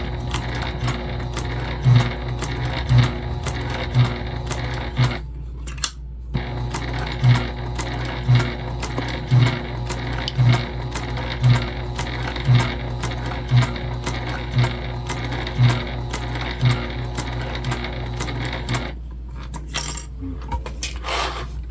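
A Juki TL2010Q sewing machine stitches leather in a loud, steady mechanical run with regular thumping needle strokes, stopping briefly twice before carrying on.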